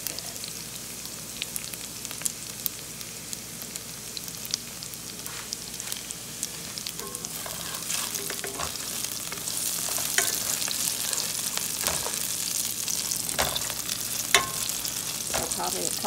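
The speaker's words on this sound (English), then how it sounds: "So probably a couple more minutes on these onions, and then we'll add the stock." Onions sautéing in a pan sizzle in a steady, soft hiss from close by, with occasional faint ticks and scrapes of stirring that grow a little louder toward the end, no voices.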